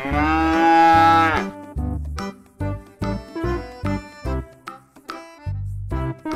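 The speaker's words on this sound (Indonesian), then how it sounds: "Sapi Australia sama kayak anaknya sangat putih Ayo kita angkut gedek teman-teman bareng sama anaknya" A white Australian cow and her calf moo loudly and repeatedly while being loaded onto a truck, with one long drawn-out bellow followed by a series of shorter calls close by.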